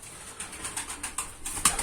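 A Bayburt pigeon coos in a loft, repeating short, soft pulses at a steady rhythm at close range, with no voices.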